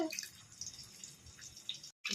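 Tamarind water trickles and drips steadily into a grinder jar for about two seconds, close by, with no talking, then cuts off abruptly.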